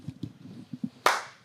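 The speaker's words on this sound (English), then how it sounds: "Can you give me a clap, please, Jimmy?" A single sharp hand clap for syncing cameras on a golf instruction shoot rings out near the end, loud and close, after a few soft knocks and murmurs in a quiet room.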